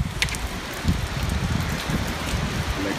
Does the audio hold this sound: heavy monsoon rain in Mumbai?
yes